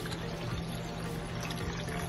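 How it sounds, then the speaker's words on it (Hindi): Water pours into urad dal in a pot, a continuous liquid gush and trickle that holds steady and close for about two seconds with no talking. "पानी डाल देंगे इसके अंदर"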